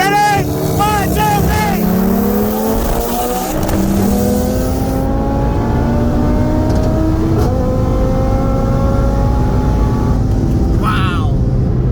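A built 2018 Audi TT RS with a turbo kit on E85 and a built 2003 Subaru WRX race from a rolling start, loud engines climbing through rising revs with gear shifts and a dense roar close to the mic, as a voice talks and counts at the start.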